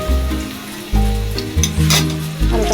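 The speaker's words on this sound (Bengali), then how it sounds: "এইদিকে দেখো আলুটা ভেজে নিচ্ছি।" Potatoes frying in a pan for a Bengali mutton curry, with a steady sizzle and several loud bursts as pieces are stirred or moved, close up and without talk.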